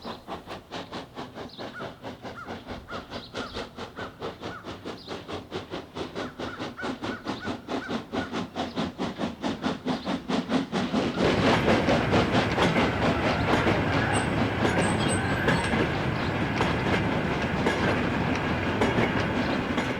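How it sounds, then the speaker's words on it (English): A railway shunter moves colliery wagons toward a tippler, with steady rhythmic clickety-clack of wheels on rail joints that quickens and swells into a loud, dense rumble with hissing, close by and without talk. "a shunter getting wagons ready for the Tippler"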